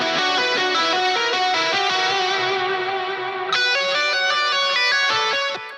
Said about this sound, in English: And then we get into some little ambient lead stuff here.